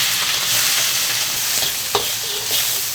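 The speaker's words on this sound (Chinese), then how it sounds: "鱿鱼下锅" Squid stir-frying in a hot wok at home, a steady loud sizzle with occasional scraping stir strokes from a spatula, no talk.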